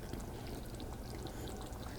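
Dry adobo seasoning shaken into a cooking pot of cassava leaves, giving a steady, close, soft granular rush of pouring with no talking.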